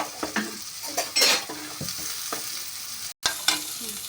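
Oil fries in a pan for a mutton curry, with a steady sizzle broken by repeated spoon stirs and scrapes against the metal, close and fairly loud, no speech.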